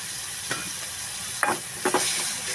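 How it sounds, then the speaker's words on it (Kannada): Food sizzling in hot oil in a pan while a home cook prepares North Karnataka roti palya, with a steady fry hiss broken by a few sharp stirring scrapes. "ನೋಡ್ರಿ ಈ ಥರ ಚಲೋ ಫ್ರೈ ಮಾಡ್ಬೇಕು ನಾವು"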